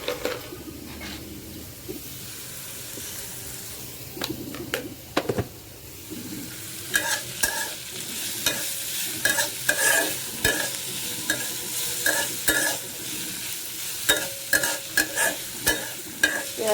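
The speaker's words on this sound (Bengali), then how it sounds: "পেঁয়াজ আর আলু একটু ভাজা ভাজা হলে তারপর আমি শাকটা দিয়ে দিব" Onions and potatoes frying in a pan, with turmeric and salt, for a spinach stir-fry, stirred with loud repeated scraping strokes over a steady close sizzle.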